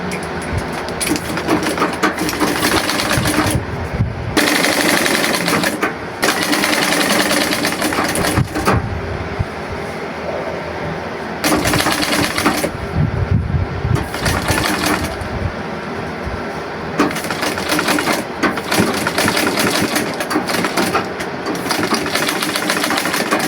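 A foot-powered treadle sewing machine stitches a pair of long pants in repeated bursts of fast, close mechanical clatter, separated by brief pauses.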